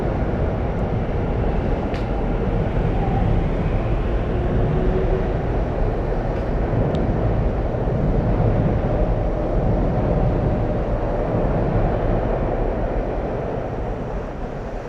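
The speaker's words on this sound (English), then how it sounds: "Okay, it's all train." A train passes near a river at night, its dense, loud rumble and rolling roar holding steady throughout, then easing slightly at the very end.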